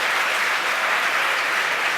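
Crowd at a SpaceX Falcon Heavy launch applauding and cheering, a dense continuous roar of clapping and voices, loud and steady for the whole stretch.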